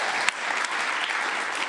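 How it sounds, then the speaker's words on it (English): Audience applause at the opening of a 5x10 Talks event in Brooklyn, a dense steady wash of clapping filling the room, fairly loud and sustained throughout with no voices over it. "Come on, I don't get a round of applause."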